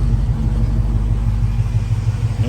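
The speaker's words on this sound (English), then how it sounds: "Engine runs nice and strong." A 1953 Chevrolet 3100 pickup truck's engine runs steadily at idle close by, a loud and even low rumble with no pauses and no voices over it.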